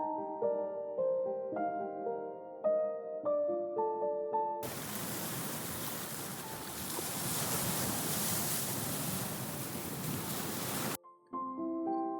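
Sea waves surge in a broad, steady roar with wind, flanked by soft melodic music before and after.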